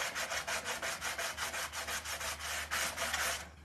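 Sandpaper rubbed by hand over a craft piece, about a dozen quick rhythmic back-and-forth scraping strokes, close and bright, then stopping abruptly near the end; no talking.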